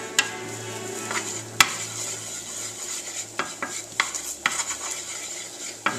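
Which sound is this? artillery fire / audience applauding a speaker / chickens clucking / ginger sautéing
ginger sautéing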